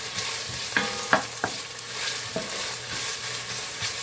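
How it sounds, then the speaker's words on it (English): Onions stirred and frying in a heavy-bottomed pan such as a karahi or Dutch oven, with a steady low sizzle broken by several sharp scraping knocks of the spoon against the pan. "You want to stir your onions until they get golden brown."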